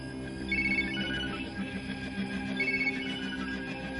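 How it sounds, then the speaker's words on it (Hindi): A phone rings quietly in a repeating electronic chirp, two short bursts against a low background hum. "किसका फोन है?"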